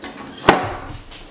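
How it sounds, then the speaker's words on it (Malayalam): A magic cooker's lid is opened, producing a single sharp metallic clunk, close and fairly loud, followed by a faint lingering ring with no other activity. "ഇനി നമുക്ക് ഈ മാജിക് കുക്കർ ഒന്ന് ഓപ്പൺ ചെയ്യാം"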